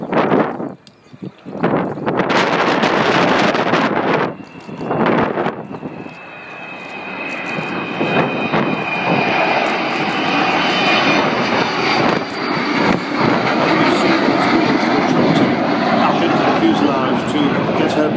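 Avro Vulcan XH558 jet bomber at a flying display, a loud sustained jet engine roar with rising and falling intensity as it passes, with wind buffeting the microphone and brief talk near the start.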